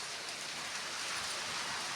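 Unseasonable rain pours steadily over Konkan, a dense, even hiss of drops drumming on surfaces with no pauses, loud and close throughout.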